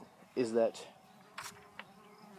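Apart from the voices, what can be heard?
bee buzzing nearby outdoors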